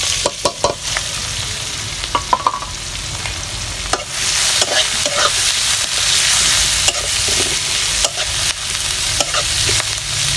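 Onions and green chillies frying in a pan for a fish curry, a steady loud sizzle broken by repeated sharp scrapes and knocks of a spatula stirring.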